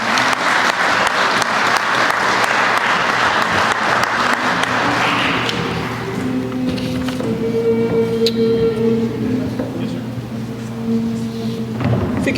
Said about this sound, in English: give the graduates one more round of applause